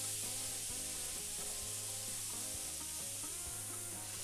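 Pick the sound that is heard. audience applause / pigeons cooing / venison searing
venison searing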